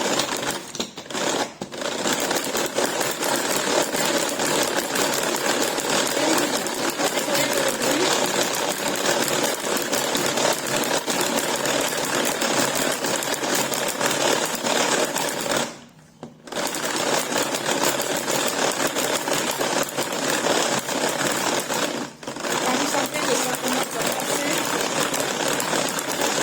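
Tupperware Speedy Chef being hand-cranked at speed 1 to whip cream, a continuous rapid whirring clatter that stays loud and steady with a few brief stops, while a voice talks over it now and then.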